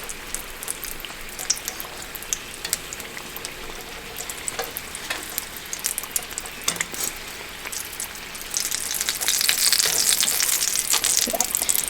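Homemade samosas frying in hot oil give a steady, close sizzle with scattered pops and crackles throughout, swelling louder and denser toward the end, with no talking.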